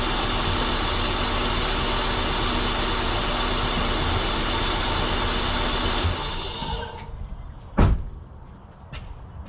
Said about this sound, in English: Let me shut off the engine.